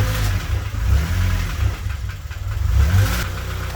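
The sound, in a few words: K-swapped Honda Civic engine first start and running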